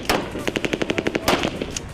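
Rapid bursts of automatic gunfire from a live-ammunition military drill, a steady string of about a dozen sharp, close, loud shots with a heavier blast near the end, with no voices.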